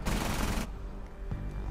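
Loud, dense burst of rapid gunfire in Rainbow Six Siege, lasting over half a second and cutting off abruptly into a quieter game-ambience tail.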